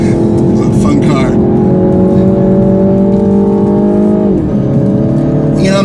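A small car with a CVT accelerating hard, the engine note holding a steady drone and climbing gradually before dipping briefly near the end, loud and close with a voice talking over it.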